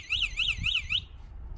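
Zapcool 3.6 electric scooter anti-theft alarm sounding a loud, close warbling electronic beep in four rapid rising-falling pulses before cutting off abruptly.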